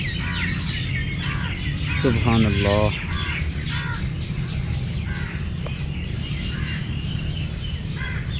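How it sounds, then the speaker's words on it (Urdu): Birds call and chirp among trees after afternoon prayer, a busy chorus of tweets and caws running throughout, with a brief louder call near the middle and someone speaking a short phrase over it. "پرندوں کی آوازیں آپ سن رہے ہیں نا"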